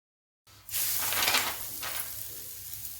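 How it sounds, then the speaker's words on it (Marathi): Ghee poured on a hot griddle makes a fasting-recipe dosa sizzle. After a moment of silence the frying hiss rises and stays loud and steady, swelling briefly again. "तूप सोडून घ्यायचं आहे साईडनं"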